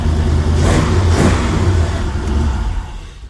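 A 1956 two-door car's engine revs loudly and steadily up close, holding a strong low roar for about three seconds before easing off slightly at the end.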